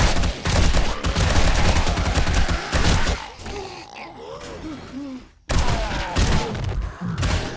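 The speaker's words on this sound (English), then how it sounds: "I'm really terrified of shooting at zombies when they have loot and stuff around them." Video game gunfire in 7 Days to Die as zombies are shot, loud rapid bursts of shots, a short lull with a zombie growling and grunting, then another quick volley of shots.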